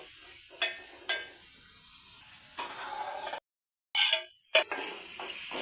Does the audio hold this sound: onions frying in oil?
yes